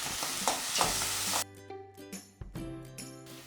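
Green peas and green capsicum sautéing in a pan for pav bhaji, a bright sizzle for the first second and a half, then quieter scattered scraping and stirring sounds.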